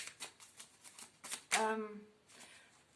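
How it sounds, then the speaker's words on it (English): Tarot cards shuffled in quick rapid bursts, a run of short riffling flutters ending in one longer cascading riffle, close and fairly crisp. "I'm fiercely shaking, shuffling the cards."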